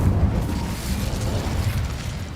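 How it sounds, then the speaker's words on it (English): Incendio fire spell cast in Hogwarts Legacy, a rough, burst-like whoosh of flame with a low rumble running steadily for a couple of seconds, with no voice. "Incendio!"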